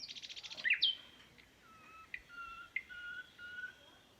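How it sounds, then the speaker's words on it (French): A nightingale sings in the countryside, giving a rapid trill followed by scattered clear whistled notes and chirps, fairly faint, with no speech. "Ça doit être un rossignol."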